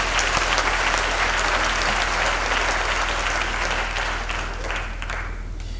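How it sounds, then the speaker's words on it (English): A large audience at a university graduation ceremony on a main campus applauds in steady, dense clapping that fills the hall and fades slightly toward the end. "A round of applause for our academics."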